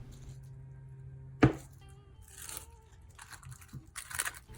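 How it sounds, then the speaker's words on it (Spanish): Plastic wrap pulled and pressed over filled dessert molds, a sharp tear followed by soft crinkling and rustling, close and quiet over a faint hum. "les voy a colocar este papel plástico porque los voy a refrigerar"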